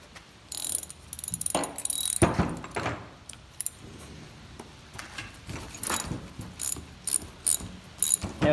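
A 7/16 12-point socket on a ratchet works a tight part loose from a Roosa Master/Stanadyne JDC injector pump off a John Deere 7020, with close, loud clicking ratchet strokes and metallic clatter in uneven bursts, no voices.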